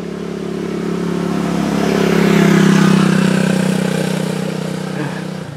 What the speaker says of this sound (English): We've got a motorbike coming.